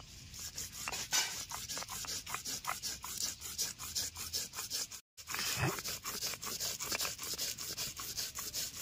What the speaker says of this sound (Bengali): এবার পোস্তগুলো বেটে নেবো।